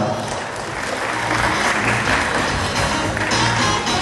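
Audience applause at a regional leaders' awards ceremony, with dense, steady clapping from a large crowd that fills the whole stretch at an even, loud level.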